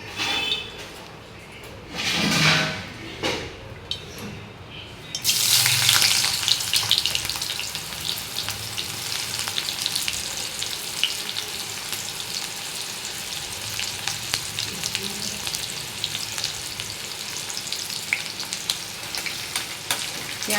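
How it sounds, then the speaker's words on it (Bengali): Onions hit hot oil in a kadai with a sudden loud sizzle, then a steady, dense frying crackle continues for many seconds; a few soft clatters come just before the onions go in. "তেলে এবার আমি পেঁয়াজ দিয়ে দেবো।"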